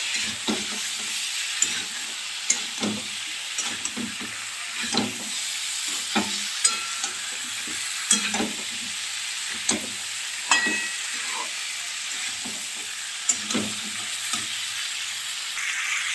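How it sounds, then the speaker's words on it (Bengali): Potatoes and cauliflower frying in a pan and being stirred through spices, with a steady soft sizzle broken by repeated scraping stirs at an uneven rhythm, close and moderately loud, with no talking. "ভালো করে মশলাটা যাতে আলু আর ফুলকপির গায়ে লাগে সেই জন্য আমি ভালো করে একটু মাখিয়ে নিই"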